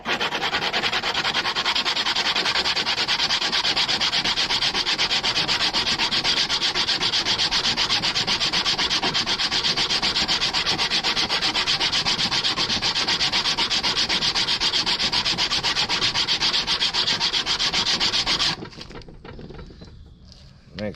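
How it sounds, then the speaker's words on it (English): Continuous hand sanding with 80 grit sandpaper during an offroad mower reassembly, a steady close rasping scrub that runs unbroken for most of the clip before stopping. "So this is 80 grit sandpaper."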